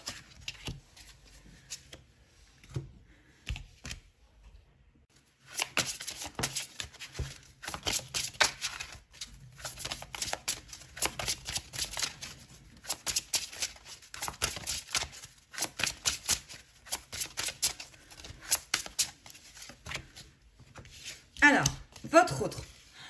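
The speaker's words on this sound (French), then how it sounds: "toutes les cartes tombent" Tarot cards being shuffled and dropping onto a surface, giving a run of quick papery riffles and soft slaps that come in bursts, fairly close and moderately loud, with quiet handling noises before them.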